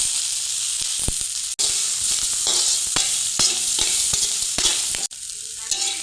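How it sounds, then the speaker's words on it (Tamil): Dried chillies with garlic frying loudly in a pan, a constant hissing sizzle broken by repeated scraping stirs and a couple of abrupt cuts. "இந்த காஞ்ச மிளகாய் இதெல்லாம் கொட்டி ஒன்றா கிண்டிக்க வேண்டியதுதான்."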